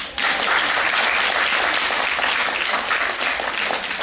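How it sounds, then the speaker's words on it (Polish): Steady applause from a crowd, dense and sustained throughout with no talking over it. "Proszę o brawa dla pana Tadeusza."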